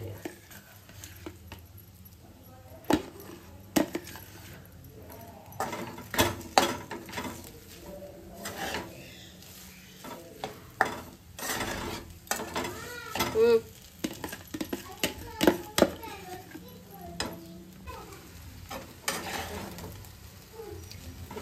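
Grated coconut mixture being stirred in a pan for halim ladoos, with irregular scraping and clinking of a spoon against the metal alongside faint sizzling, fairly close, with no talk over it.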